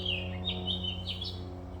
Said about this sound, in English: Do you hear the birds out there?